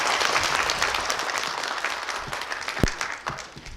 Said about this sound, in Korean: 다시 한번 큰 박수 드리겠습니다